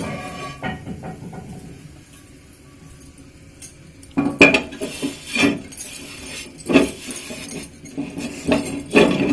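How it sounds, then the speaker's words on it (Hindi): A metal tawa griddle is set down on a gas stove, with a series of sharp metallic clanks and scrapes in the second half after a quieter stretch, close and fairly loud. "गैस तो ऑन करछू आम तावा बसामा"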